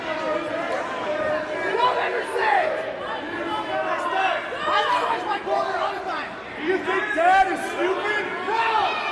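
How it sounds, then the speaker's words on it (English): Wrestling crowd at a New Frontier: Bad Omens show roaring and cheering wildly, a dense wash of shouting and chanting voices that swells and dips, loud and continuous throughout. "the crowd here is just going wild on Exess right now"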